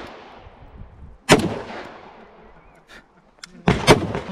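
Two sharp, loud firearm shots at a shooting competition range, each cracking with a reverberant tail and separated by a couple of seconds of quieter background.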